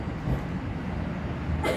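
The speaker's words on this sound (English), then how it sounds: "There's a northbound train entering." A Toronto subway train pulls into a northbound platform, its steady low rumble of wheels and rail carrying at even loudness through the short stretch, with no voices over it.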